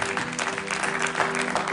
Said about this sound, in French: Est-ce qu'on peut acclamer pour Moïse?